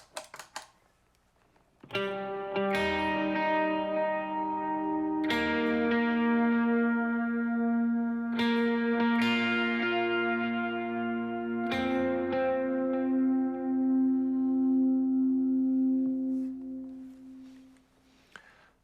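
Sustained electric guitar chords from "Be Lifted High" ring out through heavy effects pedals, with a few strummed attacks that swell and trail off into a long, echoing decay.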